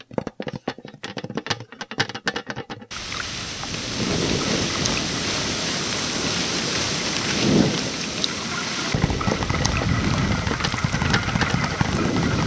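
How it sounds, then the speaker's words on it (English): Foley rain beats against windows: a few sharp clattering taps open it, then a steady, loud wash of rainfall with low rumbling swells continues alone to the end. "Now I need some rain on the windows."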